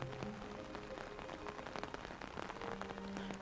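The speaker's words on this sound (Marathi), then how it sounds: "वाटेमध्ये रिमझिम पाऊस चालू होता." Light drizzling rain patters steadily on surfaces during a trip through Coorg, a dense, even crackle of fine drops with faint low hums in the background and no voices.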